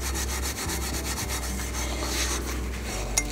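A magic eraser rubs back and forth over rusty metal, a continuous gritty scrubbing with quick repeated strokes, close and steady, ending in a faint light click.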